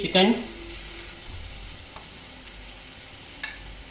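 Chicken for samosa filling fries in a pan with a steady, close sizzle and crackle, opening with a brief louder burst as it hits the hot oil or is stirred.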